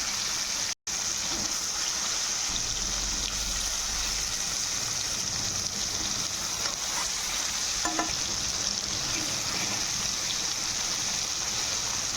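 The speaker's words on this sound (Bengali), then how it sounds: "গরম হয়ে গেছে, মাছগুলো এক সাথে দিয়ে দেবো।" Steady, continuous sizzling of rohu fish frying in hot oil in a kadai, loud and close, with occasional crackles and a brief dropout near the start.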